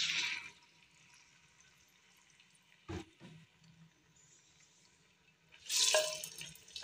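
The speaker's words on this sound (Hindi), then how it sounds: "अब डालते हैं हम चिकन" Boneless chicken for achari handi dropped into hot oil in a pan, short bursts of crackling sizzle at the start and end, separated by quiet stretches and a single soft knock.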